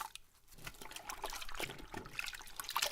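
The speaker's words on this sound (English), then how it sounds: "Then drain the used soapy water through the tap." Used soapy water drains from the tap of a safe storage container, a fairly quiet trickling and splashing stream that starts faintly and grows steadier, with no talking.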